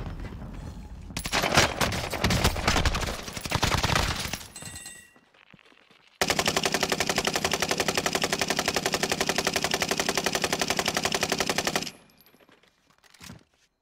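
Sustained automatic gunfire from Call of Duty Warzone Pacific rattles in two long, loud, close bursts, the second a steady rapid stream lasting several seconds, separated by a brief near-silent pause.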